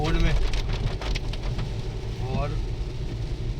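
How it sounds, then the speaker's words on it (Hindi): Monsoon rain patters steadily around a vehicle in the Uttarakhand town of Manglaur, a constant close hiss mixed with traffic noise under a voice. "बारिश शुरू हो चुकी है मोहन में"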